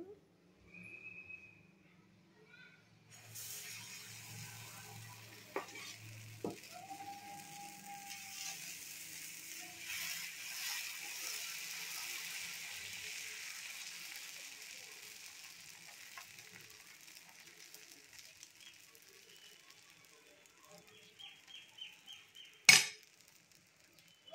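Dosa cooking on a hot pan, with onion chutney spread on top: a soft, steady sizzle with faint scraping and clicks, quiet and close, ending in one sharp knock.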